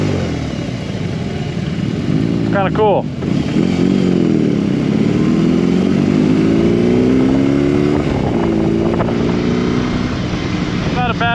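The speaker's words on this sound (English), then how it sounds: "the exhaust has got a nice little crackle to it." A 2022 BMW R18B motorcycle engine revs and shifts pitch while riding, with wind buffeting and a few sharp exhaust crackles and pops; a person speaks briefly over it.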